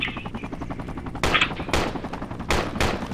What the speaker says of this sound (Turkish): Evet bana sıkıyorlar.